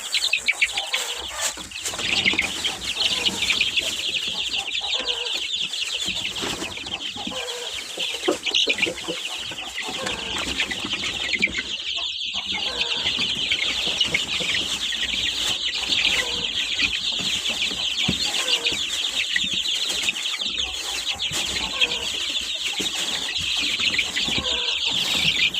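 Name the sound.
chickens clucking while eating curd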